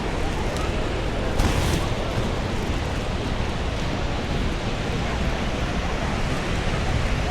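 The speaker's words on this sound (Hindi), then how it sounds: "ये पड़ रहा है भाई ऊपर से पानी।" Heavy water pouring down from above at Niagara Falls, heard up close from below as a loud, steady broadband roar that fills the whole stretch without a break.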